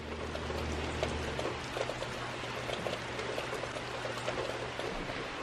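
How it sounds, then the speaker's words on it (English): Rain falls steadily on a rainy day, a soft continuous patter with scattered drips, faint and even throughout under a low background hum. "It's a rainy day."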